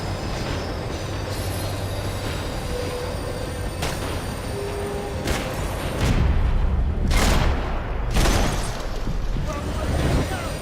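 A tram in a video game rumbles along its rails, a steady rolling drone with wheel noise that swells into louder passing surges toward the end, under faint background speech.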